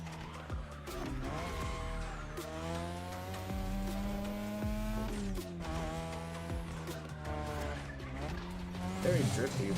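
A car drifts in the racing game The Crew Motorfest, engine droning with sustained tire squeal that shifts pitch as it slides, punctuated by short clicks and a rise in engine revs near the end.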